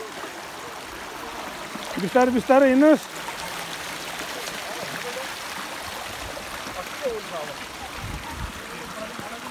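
A stream flows beneath a broken, unfinished bridge, a continuous watery rush in the background while people talk and a voice briefly calls out.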